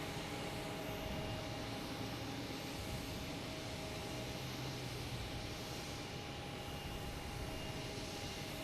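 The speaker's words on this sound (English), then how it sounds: "an A330 coming in from Dublin" Aer Lingus Airbus A330 airliner arriving from Dublin at Boston Logan Airport, heard as a faint, steady distant jet roar with a constant broadband rumble and no clear pass-by peak.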